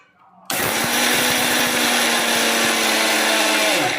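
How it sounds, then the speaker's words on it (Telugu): A mixer grinder starts abruptly and runs loud and steady, grinding drumstick leaves with sesame seeds into powder, a continuous high whine with rattling of the dry contents and a slight drop as it slows at the end. "ఇప్పుడు మనం దీన్ని మిక్సీ గిన్నెలో వేసేసుకొని చక్కగా ఫస్ట్ ఒక్కసారి మనం మిక్సీ పట్టేద్దాం"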